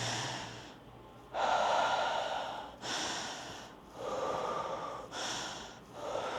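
Slow, controlled breathing for a calming exercise: four long airy breaths, each a steady inhale or exhale, close and soft with brief pauses between them.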